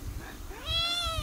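A domestic cat gives one loud, close meow that rises and then falls, with nothing else audible.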